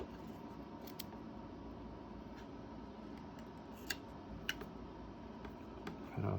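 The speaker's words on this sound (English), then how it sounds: "Cut off the string." Scissors snip through the string inside an RJ45 network cable while it is being stripped for connector termination: a few faint, sharp clicks over a quiet, steady background.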